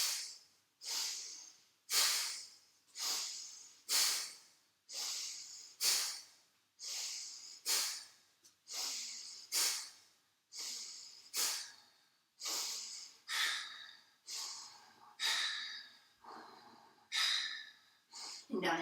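Deep, regular yoga breathing with long hissing inhales and exhales, about fourteen breaths in steady rhythm, close and fairly loud, with no talking during the breaths.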